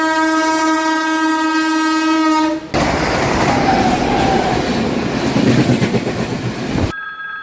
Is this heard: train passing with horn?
yes